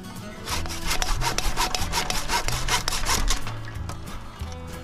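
A hand saw cuts through fruit tree branches during garden pruning, a steady rapid back-and-forth rasp of close, loud strokes with no talking.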